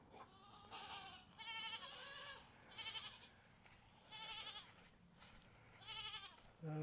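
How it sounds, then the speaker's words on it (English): A farm goat bleats repeatedly, about six wavering calls spaced a second or so apart, close and fairly clear over light background noise, with no speech. "Look at that goat."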